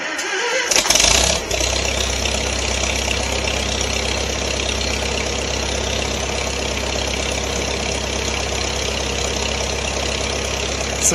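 A Farmall Super M-TA tractor fitted with a new starter cranks briefly, then its engine catches and settles into a steady, loud idle that runs on alone.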